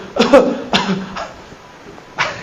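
Several rough coughs in quick succession, close and fairly loud, followed by a pause and one more cough.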